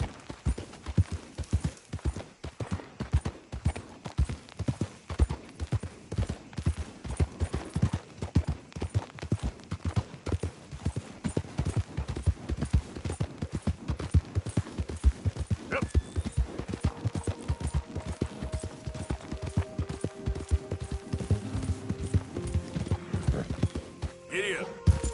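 Horse hooves gallop in Red Dead Redemption 2, a rapid, steady drumming clip-clop that runs the whole time at close range, with occasional game sounds layered on top.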